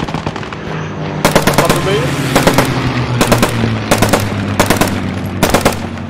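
Gunfire in the World War II shooter Post Scriptum: several sharp bursts of automatic fire at regular intervals over a low rumble, with a voice speaking briefly.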